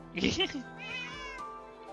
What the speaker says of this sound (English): We have a kitten.